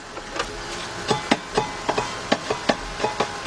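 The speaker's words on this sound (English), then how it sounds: "Dang it, the fan still hitting." On a 1999 Dodge Dakota Sport with a 3.9 engine, the engine cooling fan strikes something in a quick, irregular run of sharp knocks and clacks, close and fairly loud, with no talking.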